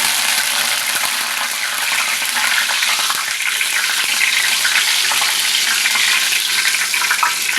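Curry leaves fry in a hot pan with a dense, bright crackling sizzle that stays steady and close throughout, with no voices.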